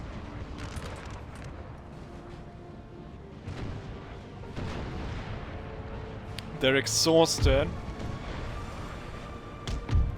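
Cannon fire in the Napoleon Total War video game during the Battle of Burgos in Spain, with repeated heavy booms and thuds, one louder burst near the end, under talk and battlefield voices.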